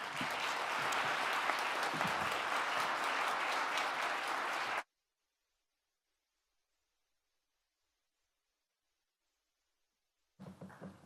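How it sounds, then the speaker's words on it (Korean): A chapel audience at a seminary autumn-semester worship service gives a loud, dense round of applause to welcome a visiting bishop, lasting several seconds before cutting to silence, followed later by a brief return of sound. "나오실 때 큰 박수로 환영해 주시기 바랍니다."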